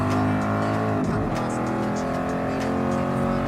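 Ford Mark IV race car engine in Gran Turismo Sport, a loud, steady, close engine roar with rich harmonics and a brief pitch dip as it shifts or lifts mid-run.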